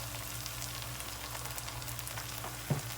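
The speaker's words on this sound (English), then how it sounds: "we need to fry off them spices" Curry powder spices frying in a pot for a chicken sabzi vegetable curry give a steady close sizzle throughout, with a brief louder clatter near the end.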